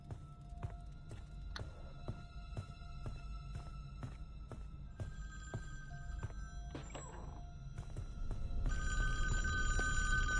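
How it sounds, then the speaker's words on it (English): A telephone rings repeatedly in the Jason is Alive virtual cabin of Friday the 13th: The Game, sharp periodic bell bursts over a low hum, with a louder, denser ringing tone swelling in at the end. "the phone now starts to ring again"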